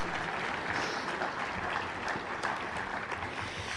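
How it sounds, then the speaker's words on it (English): Audience applause closing out an awards session at a conference, a dense, steady wash of many hands clapping at close range with no one speaking over it. "So a big round of applause for our keynote speakers and the ICB award winners."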